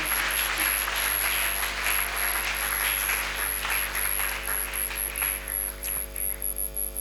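Congregation applauding at a church service, steady dense clapping throughout with a faint electrical hum and high whine underneath, no speech.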